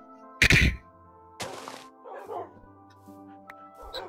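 A dog in the video game Minecraft lets out one sharp, loud bark, followed by a dull thud and a few softer yips and whimpers, with faint background tones.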